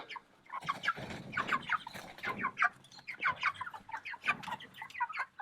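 Meat chickens cluck and squawk over and over in a busy chorus, close by and fairly loud, with overlapping calls throughout.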